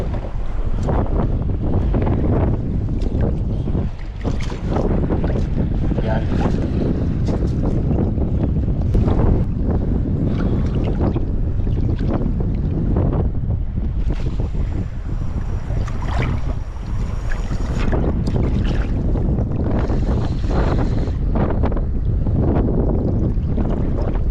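Strong wind at sea buffets the microphone steadily, with a constant roar and gusty rumble, mixed with water sloshing around a fishing boat.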